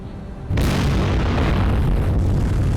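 A loud, sustained explosion in the naval combat game War on the Sea erupts suddenly after a brief lull and roars on as a dense, heavy rumble without pause.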